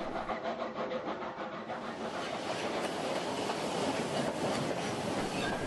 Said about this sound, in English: The train has just left Rockwood and is passing through a rock cut.